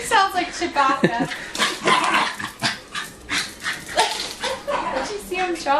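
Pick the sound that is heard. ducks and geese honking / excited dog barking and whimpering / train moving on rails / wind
excited dog barking and whimpering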